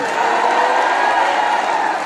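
Concert audience applauding at a show in Nice, a steady wash of clapping and crowd noise with scattered cheers, fairly close and continuous, while an announcer's voice runs over it.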